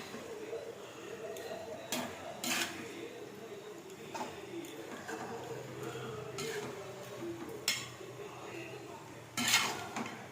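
Mango sweet pickle being stirred in a pan brings intermittent metallic clinks and scrapes of a utensil against the pan over a low simmering background, with some speech in the room.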